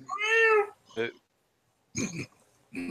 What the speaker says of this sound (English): There's a cat in the bathtub apparently